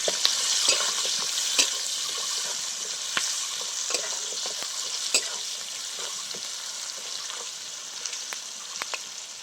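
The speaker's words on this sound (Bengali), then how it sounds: "পেঁয়াজটা ভালো করে ভেজে নেব।" Chopped onions fry in a pan for a village-style chicken curry with potatoes, a steady broadband sizzle with frequent light clicks and scrapes of stirring throughout, close and even, with no voices.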